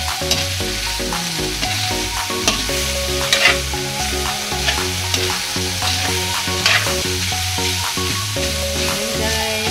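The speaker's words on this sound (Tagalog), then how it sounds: "Haluin na maigi para ang ating cube ay makunaw." Shredded chicken and a broth cube stirred in a sizzling pan for pancit bihon: steady frying crackle with repeated scraping strokes of a spoon, close and continuous, no talking.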